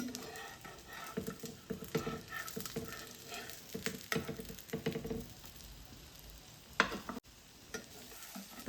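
Spinach and egg-coated bread frying in a pan, with a steady soft sizzle and crackle and repeated scraping and tapping as the slices are turned over, close up and fairly quiet with no talking.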